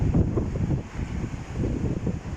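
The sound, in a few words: stormy sea waves and strong wind at Anapa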